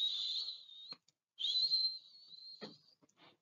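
A person whistles two sustained, clear high notes separated by a short pause, close and alone in an otherwise quiet space, with a few faint clicks in between.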